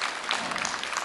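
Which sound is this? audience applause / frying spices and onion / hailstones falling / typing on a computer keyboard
audience applause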